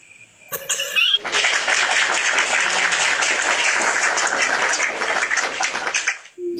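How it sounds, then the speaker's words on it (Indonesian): Applause sound effect: a dense, steady crowd clapping that starts abruptly after a brief blip, holds loud and even for about five seconds, then cuts off. "Apa efek tepuk tangan?"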